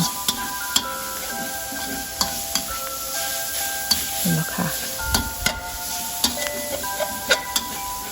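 Pepper and Thai green-cap sauce stir-fried in a pan for a minced-pork steamed egg dish, with steady sizzling under repeated clicking scrapes and taps of a utensil against the pan, up close.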